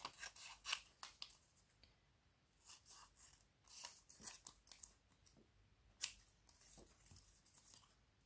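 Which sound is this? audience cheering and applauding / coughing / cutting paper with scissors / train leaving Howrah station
cutting paper with scissors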